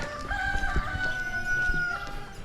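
A rooster crows once nearby in Astorga, Spain, a long drawn-out call that rises and holds before trailing off, with faint low rustling in the background.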